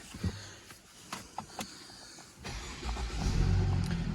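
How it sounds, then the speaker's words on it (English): A 2019 Mercedes-Benz E300 AMG Line coupe with a 245 bhp 2.0-litre petrol engine starts after a few clicks and thumps, then settles into a steady, fairly close idle rumble. "We'll just jump in and get the vehicle started."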